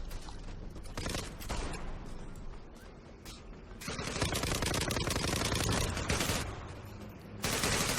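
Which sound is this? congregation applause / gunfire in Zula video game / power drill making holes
gunfire in Zula video game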